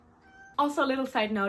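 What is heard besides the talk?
cat meowing in its sleep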